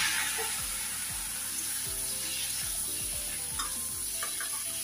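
Potatoes stir-fry in a pan, a steady loud sizzle broken by repeated scraping strokes of a spatula, close up and with no one talking.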